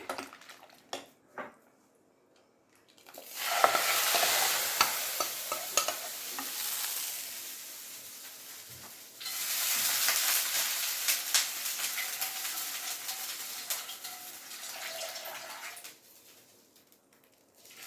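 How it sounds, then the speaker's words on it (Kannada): A spoon stirs cucumber sambar in a pot on a lit stove, producing two long stretches of close scraping and bubbling sizzle with quiet pauses and a few taps before and after. "ಈಗ ಸಾರಲ್ಲಿ ಹಾಕ್ಬಿಡೋಣ. ಈಗ ಚೆನ್ನಾಗಿ ಮಿಕ್ಸ್ ಮಾಡಿ"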